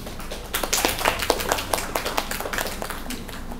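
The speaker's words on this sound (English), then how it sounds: "Please give them a round of applause." Sparse applause from a small group at a Thailand–Japan live event, quick scattered claps in an uneven rhythm, moderately loud throughout.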